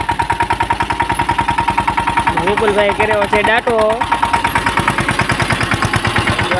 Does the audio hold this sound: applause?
no